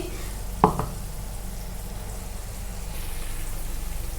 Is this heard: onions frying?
yes